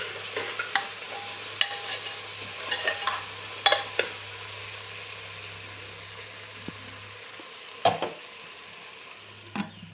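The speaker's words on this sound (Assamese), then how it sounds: "আকৌ মই লৰাই দিম এনেকৈ কিছু সময় ঢাকিম আৰু লৰাম ভাজি থাকিম" Jackfruit stir-fries in a pan with a continuous low sizzle, while a spatula scrapes and clinks against the metal at irregular moments, heard up close over a faint steady hum and no voices.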